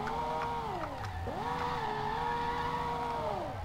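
A Zhiguli car engine in the game SLRR drones steadily, its pitch dipping briefly and then climbing back up to hold a constant hum.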